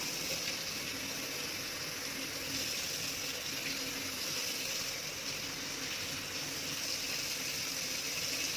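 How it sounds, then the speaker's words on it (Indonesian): Hands are rinsed under steady running water, a continuous even rush with no pauses that fills the whole clip at moderate volume. "Bilas tangan dengan satu arah."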